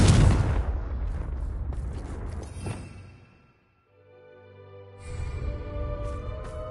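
A Confringo fire spell goes off in the Hogwarts Legacy video game, a loud blast with a long crackling burst that fades out, then a quieter rumbling follows after a short lull.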